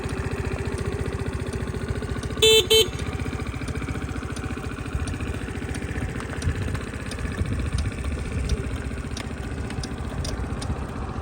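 A Suzuki Address V50G 50cc scooter from Japan idles close up, its small engine putting out a quiet, even rapid putter with a brief bright chirp early on.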